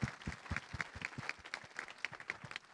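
A church congregation breaks into steady applause, dense rhythmic clapping from many hands filling the room at moderate volume with no voices over it.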